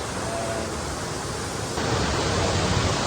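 Steady broadband rush of a muddy, chocolate-brown river, continuous and fairly loud, growing slightly stronger partway through, with no voices.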